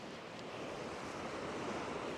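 Waves wash onto the shore at the seaside at Happisburgh, Norfolk, a constant, even roar of surf heard alone without any talk.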